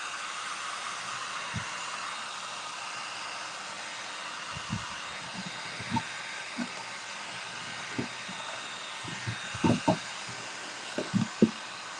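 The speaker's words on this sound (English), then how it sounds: "I have to use the heat gun for just a second so I can get on with this." A heat gun blows a steady, even rushing whoosh throughout, with scattered light knocks and clicks of craft work nearby. It is fairly quiet and there is no talking.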